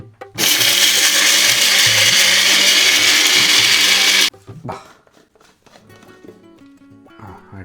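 Mixer grinder powdering spices for a Dindigul chicken biryani, a loud steady whirring grind for about four seconds that stops abruptly, followed by quiet kitchen clatter.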